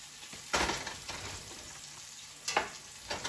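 Grouper fillets sizzle quietly in a frying pan, a soft continuous crackle with two louder bursts of spitting and popping.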